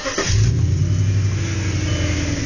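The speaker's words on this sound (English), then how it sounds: "I had the rear mufflers removed, so it's got a bit of a different sound" An Audi A6 4.2 Quattro with its rear mufflers removed gives a quick rev that swells into a deep, loud exhaust rumble and holds there, heard close up.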